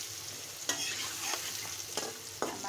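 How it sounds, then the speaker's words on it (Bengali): Papaya pieces frying in a pan, a constant sizzle under four or five distinct scraping stirs of a spatula, close and steady with no talk. "আমার পেঁপেটা ভেজে নেওয়া হয়ে গেছে, আমি এখন উঠিয়ে নেব।"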